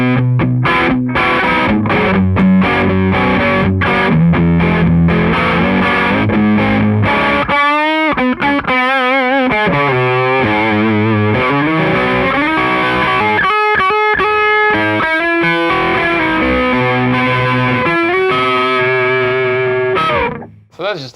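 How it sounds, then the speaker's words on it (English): Electric guitar played through a Red Witch Ivy high-gain distortion pedal into a valve amplifier, loud and continuous with saturated sustained chords, then single-note melodic lines and bends, ending abruptly. "So those are just a couple of the sounds you can get with the Ivy Distortion"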